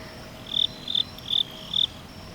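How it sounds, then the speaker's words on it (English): Crickets hidden in little cracks of a wall chirp in four short, evenly spaced bursts, close and clear over a quiet outdoor background. "It sounds like the crickets are in the holes."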